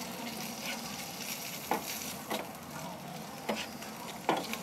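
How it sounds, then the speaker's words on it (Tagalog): Squid adobo fries in a pan while a utensil stirs it, giving a steady sizzle broken by about four distinct scraping strokes at a moderate, close level. "So haluin niyo siya guys hanggang medyo maluto siya"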